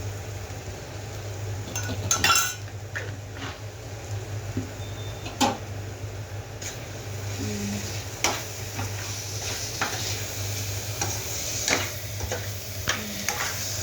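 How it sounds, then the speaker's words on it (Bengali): Ghee is spooned into a pan of simmering carrot halwa and stirred in, giving a low steady sizzle under scattered scrapes and clinks of the spoon against the pan, close and fairly loud. "একটুখানি আর একটু ঘি দিয়ে দিচ্ছি অল্প করে"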